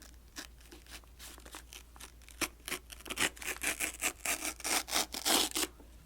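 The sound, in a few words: unwrapping a library book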